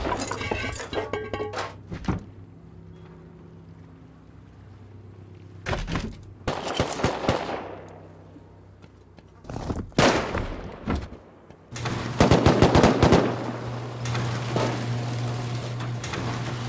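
Bursts of rapid AK machine-gun fire rattle through a video game raid defense, arriving in several clusters separated by quiet gaps, with a longer, denser volley near the end.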